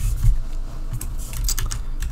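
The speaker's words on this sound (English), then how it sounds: "Type unattend XML." Quick typing on a computer keyboard, a close run of light key clicks over a low background hum.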